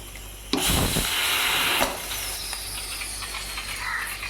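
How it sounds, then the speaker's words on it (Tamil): Pressure cooker cooking rice on a Tamil home stove lets out a sudden loud steam hiss that holds steady for over a second, then fades into a softer ongoing hiss. "சாதமும் விசில் வந்துடுச்சு"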